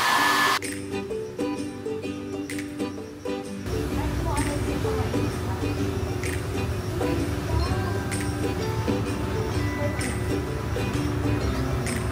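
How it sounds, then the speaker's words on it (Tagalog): A hair dryer starts up and blows with a steady loud whir, continuing without pause over faint background sounds. "Nakarinig ate ng blower."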